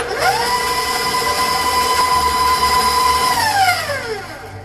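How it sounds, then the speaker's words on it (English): An electric mixer beats butter and sugar for a lemon vanilla cake. Its loud, close motor whine ramps up, holds steady and then winds down at the end. "Now we are beating the butter and the sugar"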